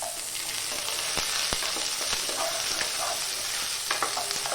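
A medium-sized onion fries in a pan for a matar potato curry, giving off a steady close sizzle broken by sharp scrapes and clicks of stirring.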